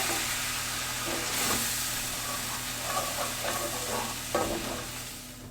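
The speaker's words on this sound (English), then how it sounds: "we're going to add in our milk. Give that a good stir." Milk is stirred into spinach artichoke dip in a pan over lowered heat, giving a soft continuous sizzle and hiss with occasional spoon scrapes, close by and without talk.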